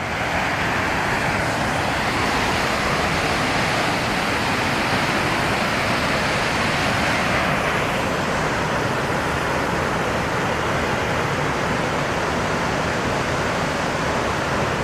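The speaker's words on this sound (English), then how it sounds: "It's a pretty cool waterfall, man." A waterfall roars in a steady, loud broadband rush of fast-falling water, continuous and close throughout with no voices.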